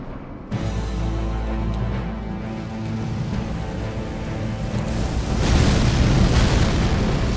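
Explosion in Elden Ring, a sudden deep boom that swells into a sustained roaring rumble, growing louder toward the end with no talk.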